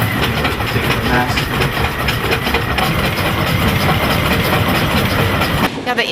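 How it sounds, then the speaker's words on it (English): An antique Washington-Estep three-cylinder steam engine runs steadily with a loud, dense rhythmic chugging and clatter that fills the whole stretch, close up, with a brief drop near the end. "Yeah, the engine is so comforting and soothing, and it just puts me to sleep."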